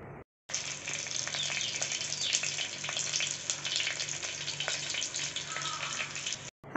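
Spices crackling and sizzling in hot oil in a pan for Thirukkai fish rasam, a loud, dense, continuous fry that starts abruptly, runs steadily and then cuts off.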